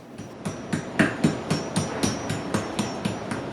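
Hard, dry tapping on a piece of beef dry-aged in a kelp powder coating, about four knocks a second in a steady rhythm, close by with no voices.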